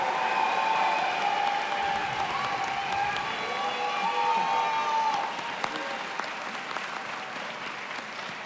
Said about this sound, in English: Please join me in a round of applause for our Bachelor of Science in Policy Analysis and Management